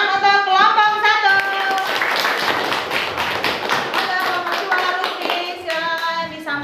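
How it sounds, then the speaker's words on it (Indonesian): Classroom of students clapping for a discussion group, loud close rhythmic hand claps filling the room, with voices heard at the start and end. "tepuk tangan untuk kelompok 1"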